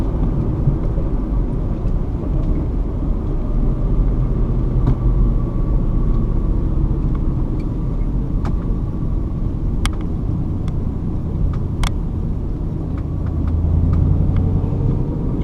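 A Ford Mustang GT V8 idles with a low, continuous burbling rumble, close and loud, with a few faint clicks above it.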